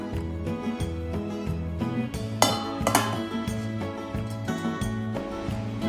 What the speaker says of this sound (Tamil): அதனால் அப்படியே பிளேட் போட்டு மூடி வச்சிடலாம்.